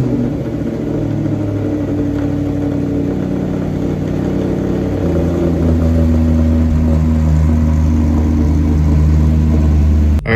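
Salvage Audi RS5 engine rumbling steadily as the car pulls away on its first test drive, a close, loud mid-range drone that shifts pitch about halfway through as it moves off, with no talk over it.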